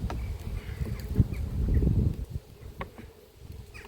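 Honey bees buzz around an apiary hive, a low droning hum that swells louder for a moment then settles, with soft rustles and ticks nearby and no voices.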